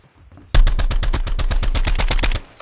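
Rapid automatic gunfire in the Call of Duty Mobile video game, a loud close burst of about twenty evenly spaced shots lasting nearly two seconds, then abruptly stopping.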